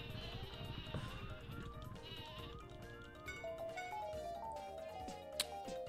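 Sleepy Sheep item in the video game Paper Mario: a flock of cartoon sheep bleat in repeated wavering cries, overlapping one another over a musical game backdrop, with a sharp chime near the end.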